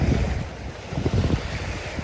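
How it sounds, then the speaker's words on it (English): Boat wake water sloshes and laps in uneven surges against the Tennessee River bank, with wind buffeting the microphone throughout. "So these waves will die off."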